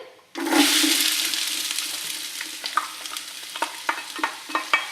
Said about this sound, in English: we're going to saute that for 4 to 5 minutes